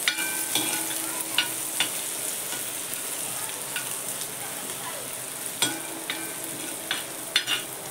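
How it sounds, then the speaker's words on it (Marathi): Onion fries in a pan with a constant hissing sizzle while a spoon stirs it, making intermittent sharp scraping clicks against the pan. No one is heard talking. "कांदा चांगला परतून घेते जरा"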